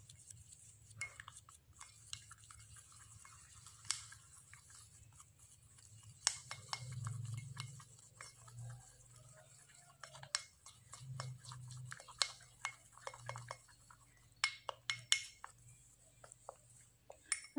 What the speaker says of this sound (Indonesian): Kemudian bahan ini kita aduk dulu.